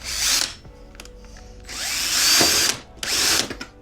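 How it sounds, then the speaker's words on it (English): A power drill bores holes into the plastic tail unit of a BMW S1000RR track bike, in three loud close bursts of high-pitched whirring separated by short pauses. "So I've got my trusty drill, so we're just going to put a point there"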